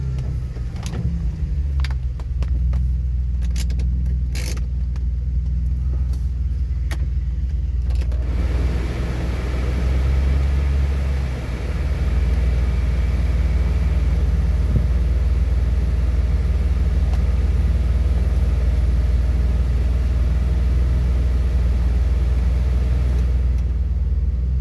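A truck with its rear differential locked crawls along sand and gravel pit trails, giving a steady, loud low engine rumble with creaks and clunks of the drivetrain and body, heaviest in the opening seconds.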